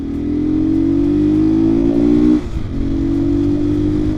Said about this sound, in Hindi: अभी मोटरसाइकिल तेज़ हो रहा है